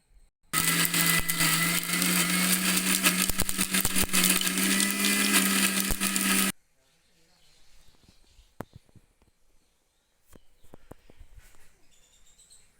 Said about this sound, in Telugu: ఇది మనం మిక్సీ పట్టుకుందామండి